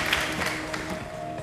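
Brief burst of audience applause and clapping from a studio crowd on a Brazilian TV game show, moderately loud and continuous, with faint voices mixed in.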